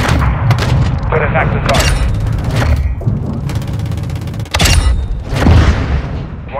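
Heavy artillery and gunfire booming in a military combat video game, dense repeated blasts and bursts over continuous battle noise, with radio-style voices talking over it.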